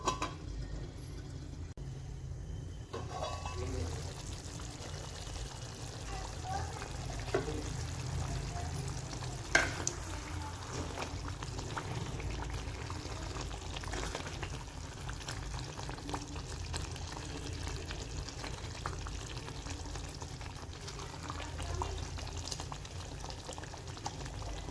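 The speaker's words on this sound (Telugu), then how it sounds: "ఆయిల్ పైకి తేలేదాకా చికెన్ని ఉడికిద్దాం." Green chicken gravy simmering in a covered pan, giving a steady low bubbling and sizzling hiss that continues evenly throughout with no talking.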